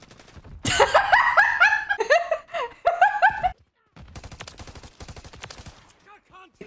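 Call of Duty gunfire in a small-map match, with dense rapid automatic bursts that cut out abruptly, then sparser clipped shots, all loud and close.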